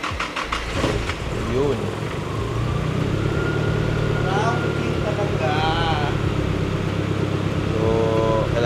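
A Toyota Yaris rally car, running on a borrowed battery, cranks and catches at the start, then settles into a steady, loud idle. A voice speaks briefly.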